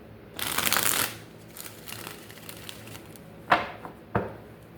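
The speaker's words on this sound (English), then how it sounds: "Let's shuffle." A deck of tarot cards shuffled close up: a long riffling burst of rapid flicks, a quiet pause, then two short crisp riffles, with no talking.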